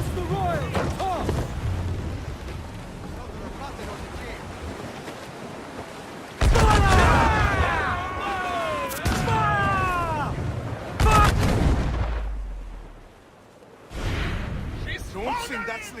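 Ship cannons firing in Assassin's Creed 4 Black Flag at sea, loud deep booms landing in separate blasts amid crashing waves, with shouted voices around and between the shots.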